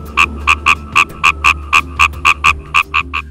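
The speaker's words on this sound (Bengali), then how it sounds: "বর্ষার বৃষ্টির পানিতে খালবিল ও ডোবা ভরে উঠলে চারপাশ থেকে ভেসে আসে ব্যাঙের অবিরাম" Frogs croak after monsoon rain has filled ponds and ditches, with about fourteen loud, evenly spaced croaks in a steady rhythm over a low background hum.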